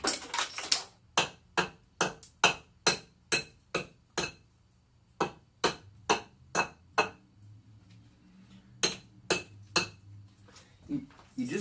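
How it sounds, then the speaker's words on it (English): Sharp hammer-like knocks strike thick chunks of cured epoxy off a concrete wall, coming in quick, close, loud bursts of several hits, pausing mid-way, then another run of blows. "You just want to knock the kind of thicker chunks off."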